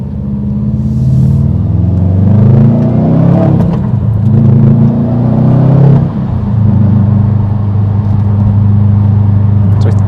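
A 2019 Subaru WRX STi with a muffler delete accelerating in gear, a loud, deep, rumbling exhaust that rises in pitch, dips at a gear change and keeps droning close by.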